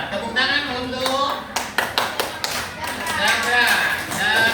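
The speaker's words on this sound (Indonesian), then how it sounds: "Iya, tepuk tangan untuk" Elementary classroom of fifth graders giving a group a round of applause, a burst of sharp scattered claps near and loud, mixed with children's chatter and a teacher's voice throughout.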